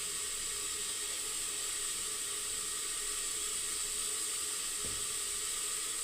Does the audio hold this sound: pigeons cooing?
no